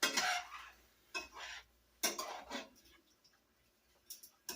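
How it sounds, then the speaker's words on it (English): A one-pot meal with cooking wine added is stirred in a pot, giving a few separate scraping, clinking strokes of a utensil against the pot with quiet pauses between them. "Stir a little bit."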